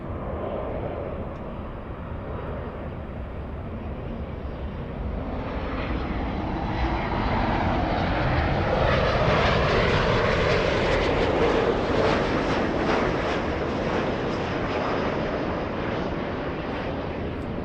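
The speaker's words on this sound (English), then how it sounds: "That's a 787 Dreamliner 787-9." A United Airlines Boeing 787-9 Dreamliner at Los Angeles airport, its jet engines roaring broadly and steadily, swelling louder toward the middle and holding as it passes, with wind rumble and no talk.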